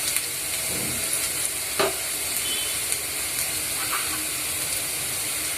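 Onions frying with turmeric, salt and chili powder for a bitter gourd curry, making a steady close sizzle and hiss broken by a few faint stirring clicks and scrapes.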